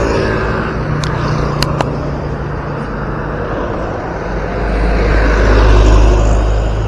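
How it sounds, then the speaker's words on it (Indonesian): Vehicles roll past near a highway toll gate on a concrete-paved toll road exit in the early morning, a continuous broadband traffic roar that swells louder toward the end as a heavier vehicle draws close, with a few brief clicks. "Kondisi terkini penampakan arus kendaraan"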